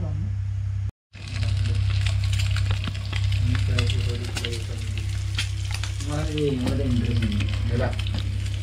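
Egg curry frying in a pan at a roadside stop on a motorbike trip from Bhiwandi to Ladakh, a steady loud sizzle after a brief cut, with people talking over it.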